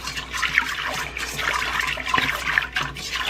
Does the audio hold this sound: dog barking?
no